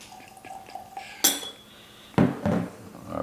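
Knob Creek 21-year bourbon poured from a bottle into a glass, a short close trickle between sharp clinks of glass and bottle, with no talk.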